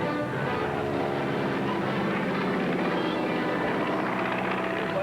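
An airplane comes in to land, its engines giving a steady, droning roar that stays loud and even throughout.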